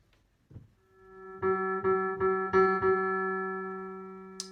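An electric piano plays a few sustained chords, each struck note ringing out and slowly fading, clean and alone with no voices.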